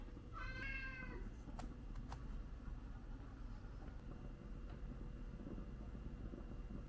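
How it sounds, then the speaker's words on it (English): An orange cat meows in a rural Vietnamese home kitchen, a short rising-falling call near the start, followed by a couple of faint chirps over a steady low background hum. "This orange cat actually belongs to my neighbor, but he often comes to my house for free meals."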